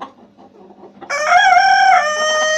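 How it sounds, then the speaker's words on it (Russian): A black rooster crows once, a loud drawn-out call close by, after a second of quiet farmyard murmur. "у меня здесь петухи остались только вот такие черные"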